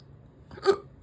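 A single sharp human hiccup sounds once, close and brief, against a quiet background with no talking.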